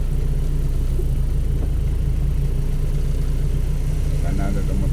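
A motorcycle engine runs steadily through flood water on a flooded city street in Iligan City, a continuous close, loud rumble and whir that holds for several seconds without pause.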